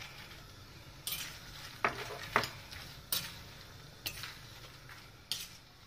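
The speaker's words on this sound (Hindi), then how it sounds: "अब हमारी कढ़ाई थोड़ी गर्म हो गई है, हम इसमें मखाना को ड्राई रोस्ट करेंगे।" Makhana (fox nuts) dry roasting in a hot kadhai, stirred with a utensil that scrapes and clinks against the metal in sharp strokes about once a second over a low steady hiss, close and fairly quiet with no voices.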